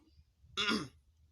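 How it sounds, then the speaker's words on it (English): A single short throat clearing, a quick rasping hack close to the microphone, rises out of a quiet background and fades within about half a second. "I had to clear my throat first"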